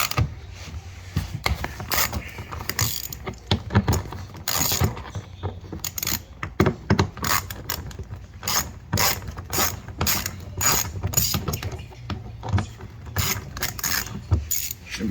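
A ratchet wrench works bolts loose on an Alfa Romeo rear diffuser, giving close, busy clicking and metallic rattling in uneven bursts, with no speech.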